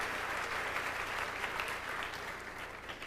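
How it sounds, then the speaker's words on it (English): Audience applause at a MusiCares gala dinner, a dense, steady clapping from a large crowd that holds at an even loudness for a few seconds. "Big round of applause for them."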